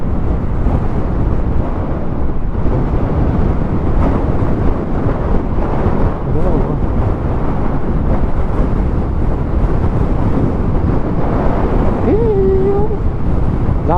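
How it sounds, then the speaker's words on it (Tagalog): Strong coastal wind roars and buffets the microphone continuously, with crashing waves underneath and a brief vocal sound near the end. "Lakas ng hangin"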